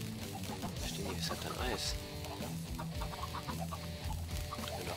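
Clucking chickens in Minecraft, heard softly beneath game music and someone talking, a few short clucks scattered through the stretch.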